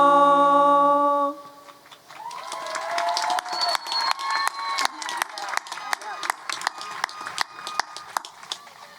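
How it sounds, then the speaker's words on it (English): A high school graduation crowd applauds and cheers for the school choir, starting after a sustained sung choral chord, with scattered claps and shouts building over several seconds in a large outdoor venue. "One more round of applause for our Vista del Lago choir,"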